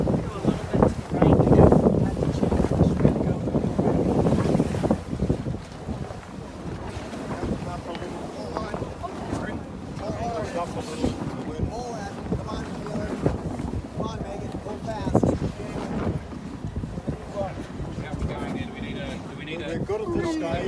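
Wind roaring across the microphone aboard a sailboat in Auckland harbour, strongest in gusts at the start, with water and hull noise underneath and people talking throughout.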